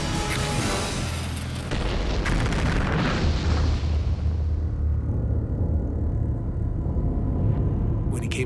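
A gas well explodes with a heavy, sustained boom and deep rumble that roars continuously for several seconds, loud and broad, with a brief crackle at the end.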